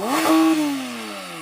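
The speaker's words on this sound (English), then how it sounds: "Pull both pedals, it'll let me rev it up." A Porsche GT3 RS naturally aspirated flat-six with a PDK gearbox blips sharply, climbing quickly to a high-pitched peak and then sliding back down as the revs fall, close and loud with no talking.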